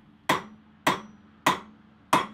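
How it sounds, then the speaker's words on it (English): A hammer strikes a center punch to drive a brass pin through the handle of a large garden tool, four sharp metallic knocks evenly spaced, close and loud with short ringing tails. "start to knock the pin through the handle."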